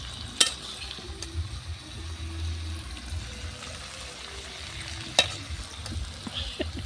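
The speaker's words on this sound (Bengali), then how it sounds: "এখন হচ্ছে আমি সিম আর আলুগুলো দিয়ে কষিয়ে নেব।" Flat beans and potatoes being stir-fried in a pan with cooked-down spice paste for a tilapia curry: a soft, steady sizzle with a few sharp spoon scrapes and clanks against the pan.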